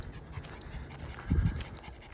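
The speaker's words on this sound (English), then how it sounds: "you can hear the dog panting a lot" A dog named Bouncy pants heavily and close by on a nature trail walk at Wallace Park in Hillsboro, Texas, a steady run of rapid breaths with one louder huffing burst partway through.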